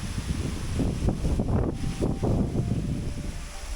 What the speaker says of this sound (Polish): Zerwała się ogromna wichura.